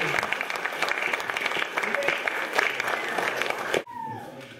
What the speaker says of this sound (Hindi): एक बार तालियां बजा लीजिए आप